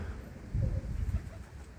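Low, soft cooing of pigeons, a short muffled burst of throaty calls close by, over quiet background noise.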